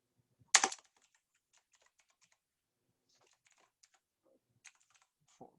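Fingers tap numbers into a calculator, a sharp loud press at the start followed by scattered faint key taps and a few clearer presses near the end, with no talking.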